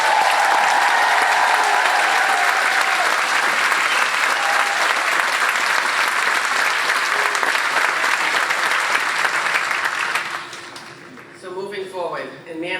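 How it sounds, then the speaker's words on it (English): Loud, sustained applause from a large conference audience fills the space for about ten seconds, then fades as a voice starts talking. "Please join me in a round of applause that they can hear back home"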